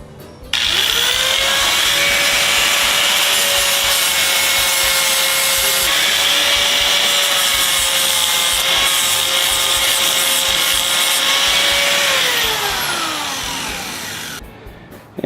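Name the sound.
flap wheel grinder cleaning motorcycle parts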